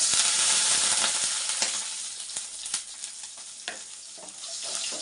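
Crushed garlic and onion sizzle in a hot pan for a greens sambar, a steady hiss broken by sharp clinks and scrapes of stirring, loud and close with no talking.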